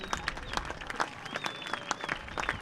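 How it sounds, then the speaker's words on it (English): A crowd applauds outdoors at a high school state football semifinal, scattered claps blending into steady clapping, with a faint whistle-like tone drifting above it. "you can hear the Cody team applauding and the Cody faithful applauding the Evanston player leaving the area"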